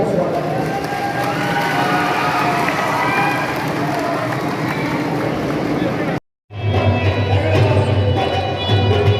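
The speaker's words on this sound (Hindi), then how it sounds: "एक बार जोरदार तालियां बजाकर स्वागत है" At an INLD party workers' meeting in Kurukshetra, a crowd claps and cheers loudly to welcome a Lok Sabha candidate, a continuous roar of applause with voices mixed in, cut by a brief dropout before a humming, noisy hall continues.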